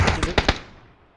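Gunshots in a video game: four quick, sharp reports in a rapid burst, loud and close, each trailing off into a brief fading echo.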